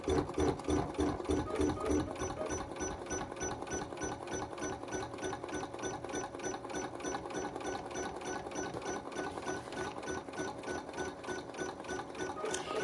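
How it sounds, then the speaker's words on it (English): BERNINA embroidery machine stitching a basting box around an appliqué design, a fast steady mechanical chatter of needle strokes running continuously at close range with no talk. "I'm going to stitch an initial basting box around my machine or around the design"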